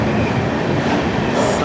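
Ajmer–Ernakulam Marusagar Express (12978) rolling into Kota Junction, heard from inside an AC two-tier coach: a loud, steady rumble of wheels and carriage noise with faint rail clatter throughout.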